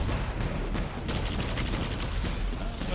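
Rapid weapon fire in the shooter game Destiny 2, with dense, loud repeated shots and mechanical clatter running without a break through the whole clip.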